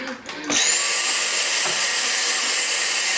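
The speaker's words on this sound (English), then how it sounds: "Be right back with the vacuum. I'm gonna vacuum it." A vacuum cleaner switches on about half a second in and runs as a loud, steady, continuous whine with a high tonal edge, cleaning up a small spill in a home pantry.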